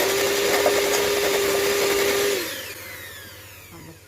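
An electric whisk beats amaretti biscuit mixture with a loud, steady whirring drone that cuts out partway through, leaving a quieter room tone.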